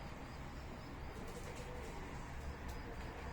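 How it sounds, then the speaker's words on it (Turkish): Pigeons cooing softly in a loft of long-kept birds, a faint, steady coo under low background noise with occasional light chirps. "Arkadaşlar kuşlara bakın beyler."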